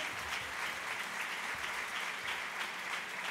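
Congregation at a women's church retreat gives a strong round of applause. Dense, even clapping fills the room and holds steadily throughout, heard from a slight distance.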